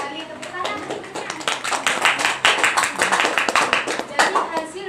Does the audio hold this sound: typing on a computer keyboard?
no